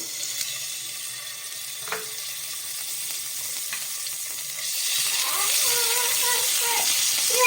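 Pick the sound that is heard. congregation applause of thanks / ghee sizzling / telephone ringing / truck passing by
ghee sizzling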